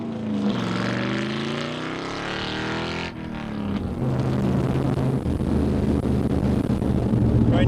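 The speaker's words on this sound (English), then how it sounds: "it was finally time to take the heart transplant Corvette for a spin" A Chevrolet C3 Corvette with a swapped LS V8 and six-speed manual drives past under heavy wind buffeting, its engine droning steadily, dipping at a gear change, then pulling harder in a loud, continuous rumble.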